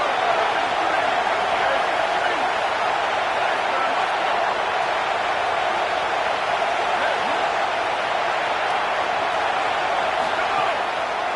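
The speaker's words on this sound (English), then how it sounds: "The roar of the crowd trying to fuel this defense to keep them pinned in their own end." Stadium crowd roar in a college football video game, a dense, steady, loud wash of cheering noise that holds without a break throughout.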